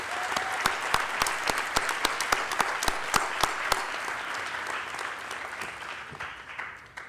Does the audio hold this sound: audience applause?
yes